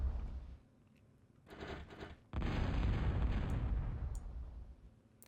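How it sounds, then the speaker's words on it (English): Bombing explosions in a strategy video game: a shorter muffled blast, then a heavier booming explosion that rumbles on and slowly fades, with no talk over it. "And now Venom bombing Aprox out"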